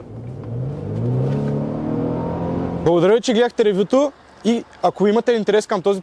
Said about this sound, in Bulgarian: Но въпреки това двигателя няма да остане незабележим и ще чуете неговото мъркане.